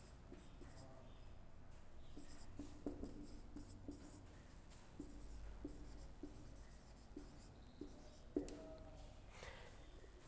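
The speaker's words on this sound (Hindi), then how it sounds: "मैं यहाँ पर एक सेंटेंस लिखता हूँ" A pen writes out a sentence by hand, making faint, quiet scratching strokes broken by a few soft taps against the surface.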